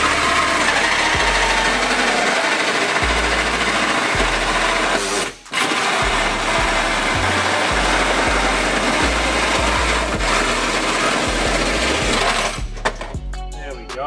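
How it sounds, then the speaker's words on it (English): A power drill whines continuously as it bites through the metal body of a 2021 Toyota Land Cruiser 200 Series for a snorkel install, close and loud, with a brief pause midway and some rattling near the end. "that drill done the job a lot better"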